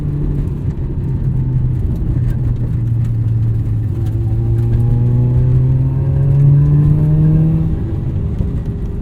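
A 1994 Mazda RX-7 revving while driving, the engine note rising and falling in smooth sweeping climbs as it pulls through the gears, heard from inside the car and loud, with no talking.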